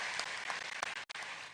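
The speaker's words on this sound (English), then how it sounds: "Another round of applause for President Samia Suluhu Hassan" Audience applause for President Samia Suluhu Hassan at the Africa Climate Summit 2023, a brief burst of clapping that fades and cuts out near the end.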